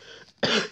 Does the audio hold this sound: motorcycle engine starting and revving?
no